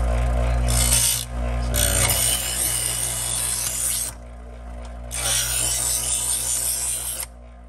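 A kitchen knife drawn through stage 2 of a Chef's Choice Trizor XV electric sharpener, a loud grinding rasp over the motor's steady hum in two long pulls separated by a short gap, with no voices.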